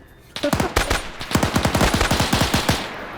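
Rapid automatic fire from a BAR in a WW2 video game, a loud, close, steady string of roughly a dozen-plus shots in an even rhythm, with faint voices underneath.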